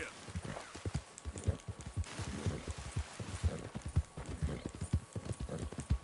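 Horse hooves in Red Dead Redemption 2 pound out a fast, steady clip-clop rhythm up close, continuing without a break under a low ambient hum.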